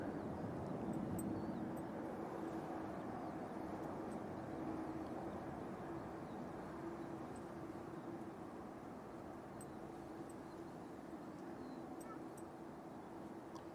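An Emirates A380 airliner going around, a distant broad steady jet roar holding at an even level throughout with a faint low drone.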